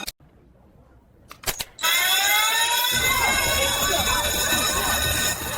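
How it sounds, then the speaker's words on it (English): School fire alarm: a few sharp clicks and bangs, then a loud electronic alarm starts ringing and holds steady and piercing, drowning out the room. "You pulled a fire alarm, Marcus."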